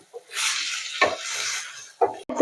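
Chicken palipalaya fry stirred in a pan at home, giving a few scraping, clattering bursts of spoon against metal with short pauses between them.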